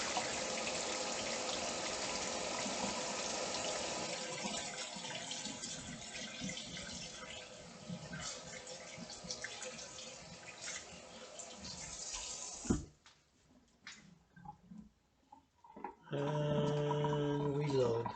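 Tap water runs steadily from a faucet over wild grapes being washed in a sink, a continuous broadband rush for about thirteen seconds that cuts off, followed by scattered drips and handling sounds before the flow resumes.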